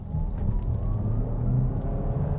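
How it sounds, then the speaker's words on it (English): Skoda Kodiaq iV plug-in hybrid SUV picks up speed with a smooth, steady low road rumble and muted engine note, heard from inside or nearby with no voices. "If you want to give it some, it will pick up speed nicely"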